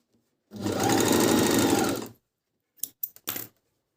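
A Minerva M2000C coverstitch machine stitches a seam with the right and middle needles at 3.5 stitch length, one steady burst of about a second and a half, then a few short clicks and bumps close by.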